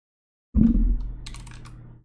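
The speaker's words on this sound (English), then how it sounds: "Ah, bad typing." Computer keyboard typing during a live stock market stream: a close burst of keystrokes lasting about a second and a half, with no talk.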